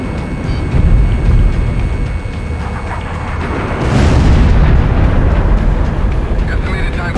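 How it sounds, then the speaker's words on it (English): A missile launched from an airborne fortress in the Ace Combat X video game roars loudly and continuously, a swelling rumble that surges again midway, with a voice speaking over it. "Airborne fortress missile launched."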